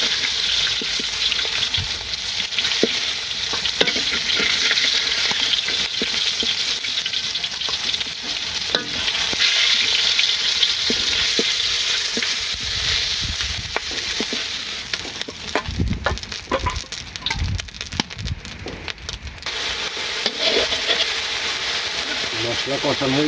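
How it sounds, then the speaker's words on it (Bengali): A spice paste is sautéed and stirred in a pan, giving a steady, loud sizzle with scraping stir strokes throughout and a brief rougher patch of stirring toward the end. "মশলা কষানো হয়ে গেছে"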